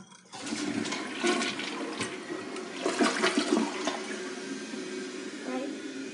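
A toilet flushes in a home bathroom with a loud, steady rush of swirling water running for several seconds, swelling and settling as the bowl drains, with faint movement around it.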